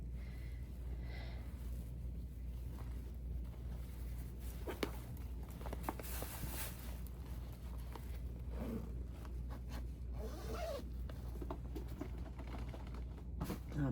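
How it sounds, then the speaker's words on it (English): Bursts of a bag zipper being zipped closed, scratchy rasps scattered over a steady low hum with small rustles and clicks in between, fairly faint and without talk. "I apologize if you're wearing headphones for all the zippers, but I gotta zip it back up"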